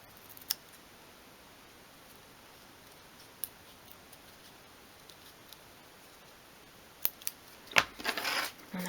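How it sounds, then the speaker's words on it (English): Scissors cut out a paper template for a miniature chest of drawers, with sparse sharp snips spaced apart, then a denser burst of cutting and paper rustle near the end, close and quiet. "So cut that out."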